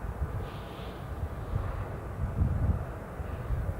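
Fixed-wing passenger plane inbound from Amsterdam near Newcastle International Airport, heard as a steady, fairly distant engine rumble with wind noise, swelling slightly toward the middle and holding for about four seconds.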